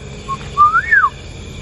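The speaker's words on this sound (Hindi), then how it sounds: "कोई सीटी बजा रहा था" Someone whistles in a forest at night: a short high note, then a longer rising and falling whistled phrase, clear and fairly close over low background rumble.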